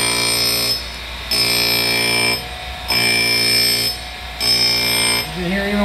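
A Chevalier 1 HP 6 x 18 inch surface grinder runs under motor power with a loud, steady tonal whine. It swells and dips in a regular cycle as the table traverses back and forth during the cut.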